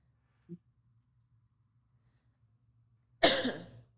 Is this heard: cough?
yes